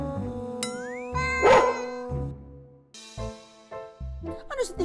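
Dog barks and yips ring out in short bursts, mixed with a high chiming tone, heard close and fairly loud.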